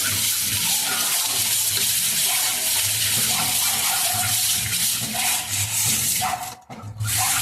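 Fish, spotted snakehead, rubbed and scrubbed by hand in water with salt, a dense, continuous wet rubbing and sloshing close up, briefly pausing near the end.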